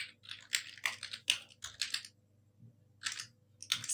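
Bursts of keyboard typing in short rapid runs with brief pauses between them, close and clear with no talking, while text is entered for a flyer in Microsoft Publisher.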